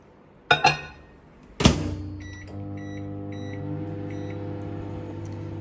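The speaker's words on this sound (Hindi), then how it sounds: "ये बैटर जो आपने बनाया है ये आपने रख देना है 2 मिनट के लिए माइक्रोवेव में" A couple of clicks and a thunk as a microwave door shuts, then a low steady hum as the microwave starts cooking cake batter.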